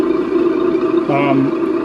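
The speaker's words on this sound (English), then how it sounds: "and the engine starts up" An electronic sound unit in a model vehicle plays an engine start-up: a steady droning hum that gains a brief rising whine, loud and close, with a voice speaking over it.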